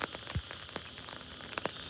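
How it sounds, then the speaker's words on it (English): Rain falling at a park stream, a soft continuous hiss of drops on water and leaves with a few sharper close patters scattered through, quiet and steady with no voices. "Rain's picking up a bit."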